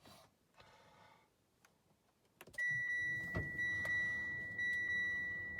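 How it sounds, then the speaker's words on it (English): A Mitsubishi Outlander 2.4 PHEV starts after a quiet cabin: a sudden onset at mid-clip gives way to a steady, fairly loud hum with a sustained electronic whine, and a few faint ticks come before it. "So I'm going to turn the engine on now and let's see what it says."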